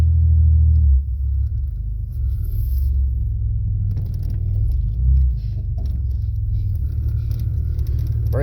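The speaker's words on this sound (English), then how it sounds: "Power steering sounds low." A 1989 Chevy Celebrity engine idles as a steady low rumble, with the power steering running low on fluid, plus a brief swell around the middle and no talking.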